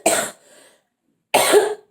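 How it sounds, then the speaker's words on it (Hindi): A person with a throat infection coughs twice, sharp, close and loud, the two harsh bursts separated by a short silence. "मुझे बहुत ज़्यादा खांसी है, थ्रोट इन्फेक्शन है"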